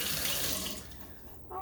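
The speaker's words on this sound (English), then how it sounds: "So let me wash my hands to get the grease off." Warm soapy water splashes steadily in a kitchen sink as hands are washed free of grease, a continuous close wash of water that thins out briefly near the end.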